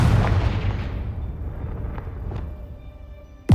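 A Confringo fire-blast spell in Hogwarts Legacy lands as a loud, booming burst that rolls off into a long, fading rumble, with a new sharp hit arriving right at the end.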